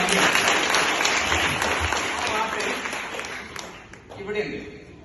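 An audience applauds a singer and teacher at a music game show, a dense burst of clapping that fills the opening seconds and then thins out, with a voice talking over it.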